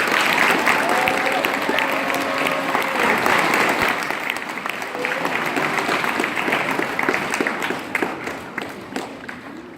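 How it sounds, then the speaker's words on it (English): An audience at a school awards event giving a round of applause, a full burst of many hands clapping that stays strong for several seconds, then thins and tapers, with faint voices mixed in. "Please give them a round of applause."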